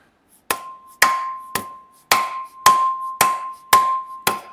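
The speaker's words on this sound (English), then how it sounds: "Let me hit it with my Baraka hammer." A hammer strikes metal eight times in a steady rhythm while an engine flywheel is being fitted, each blow a loud, close, ringing clang with a short decay and no talking.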